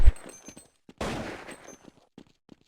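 Gunfire in Counter-Strike on the de_dust2 map during a 2011 GameGune match: a sharp shot at the start, then a louder burst of rifle fire around the middle, with scattered faint clicks and footsteps between.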